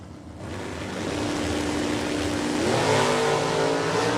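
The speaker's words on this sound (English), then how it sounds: "Andy Cronenbitter off to the races as Logan Bellinger's Firebird will follow across second." Super Stock drag race cars, one a Firebird, launch off the start line at a drag strip. The engines roar loudly and swell steadily as they accelerate, with no talk.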